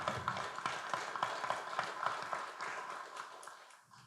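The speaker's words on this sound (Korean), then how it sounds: "박수 한번 치시죠." A seated audience at a Daedeok science forum claps together, a moderate rhythmic patter of hands that holds steady and then thins out and fades near the end.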